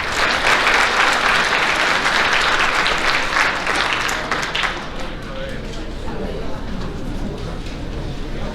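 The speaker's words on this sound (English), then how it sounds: "Give these guys another round of applause." Applause from the audience at a 2022 high school athletic banquet: a loud, dense wash of clapping that dominates the first few seconds, then thins to steadier, softer clapping with a murmuring crowd underneath.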